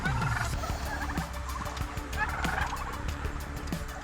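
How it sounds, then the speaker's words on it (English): Several turkeys on a farm gobble in repeated bursts, fairly close and clear, with overlapping calls across the whole stretch and no talk. "We did pretty good with the turkeys."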